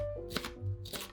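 A knife cuts a stemmed green bell pepper into thin strips, giving two crisp, quick cuts about half a second apart. They are quiet and close over a faint tonal background.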